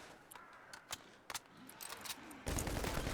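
Mounted machine gun fire in the World War Z video game: scattered sharp gunshots and bursts over a game backdrop, then a sustained loud stream of rapid fire toward the end.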